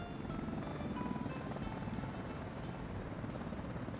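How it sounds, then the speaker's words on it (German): A rescue helicopter flies over a city in the Workers & Resources building game, its rotor drone a dense, steady roar that fills the whole stretch with no talking. "Da, der Rettungshubschrauber kommt."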